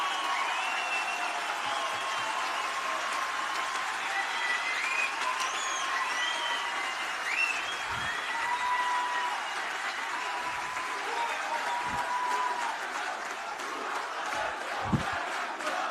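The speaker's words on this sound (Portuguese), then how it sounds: "Que bom que vocês aplaudiram" Audience applause fills a hall steadily and loudly throughout, a dense continuous patter of many hands with scattered voices and cheers mixed in.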